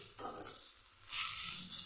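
Kanai shak leaves frying in a pan for bhorta, a soft steady sizzle with a brief stirring scrape, quiet and close.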